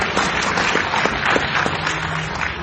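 Crowd applause at the Libertarian Party's national convention, a loud continuous wash of clapping that holds steady for a few seconds.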